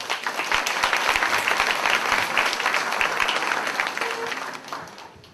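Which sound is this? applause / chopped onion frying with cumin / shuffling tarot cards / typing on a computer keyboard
applause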